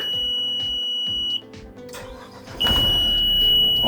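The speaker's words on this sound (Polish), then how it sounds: "spróbujemy pokazać Wam, jak się startuje" An Adria 1002 motor yacht's engine cranks and catches partway through, then runs loud and steady while a high electronic beep sounds.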